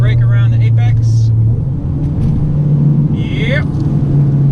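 A Mitsubishi Evo X with an SST gearbox drives in traffic, its engine droning loud and close with a brief dip and shift in pitch as the gear changes, while someone talks over it.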